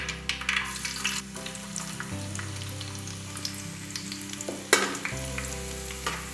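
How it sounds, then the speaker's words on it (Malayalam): Five finely chopped small shallots sizzle and crackle in hot oil for a Kerala-style beef curry, a steady frying hiss broken by occasional stirring scrapes and a sharper clatter near the end. "കൊച്ചുള്ളി ഒന്ന് മൂത്ത് വരട്ടെ"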